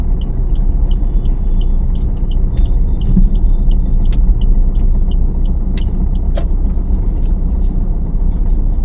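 Car interior during a driving lesson, with a loud, steady engine and road rumble droning throughout and faint high clicks over the top.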